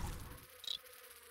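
A fly enemy in The Binding of Isaac: Repentance gives a brief, faint buzz partway through a quiet moment of game audio.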